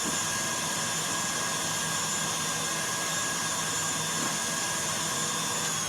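An electric mixer whisking egg whites for pavlova at a faster speed, a steady, continuous whirring drone held unchanged for several seconds with no talk over it.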